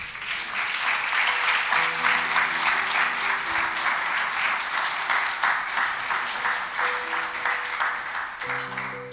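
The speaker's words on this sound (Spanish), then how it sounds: "Denle un aplauso a Dios." During a Spanish-language sermon, a church congregation gives sustained applause, many hands clapping in a dense, fairly distant wash while soft sustained keyboard or organ notes play underneath.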